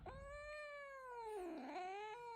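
An angry cat on a bed lets out one long, drawn-out meow that dips and rises in pitch, close and clear with no talking.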